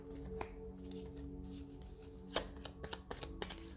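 Oracle or tarot cards are shuffled and drawn by hand, giving a quiet run of close, crisp riffles and flicks with a few sharper snaps.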